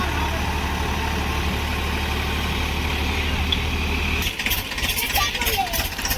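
A heavy diesel tractor engine idles steadily with a low rumble while the tractor is stuck and loaded with ginger, then shifts to a rougher, choppier sound near the end; voices are faintly audible.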